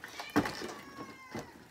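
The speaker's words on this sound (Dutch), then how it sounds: "dat is mijn kat die zielig zit met jou voor de deur" A cat meows once at a front door, wanting to go outside during a storm; one short close meow followed by a fainter second call, no speech.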